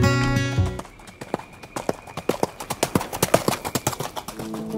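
Hooves of an Old Kentucky Saddler, a gaited horse breed, clip-clop in a steady, even four-beat rhythm, crisp and close, with no voices over them.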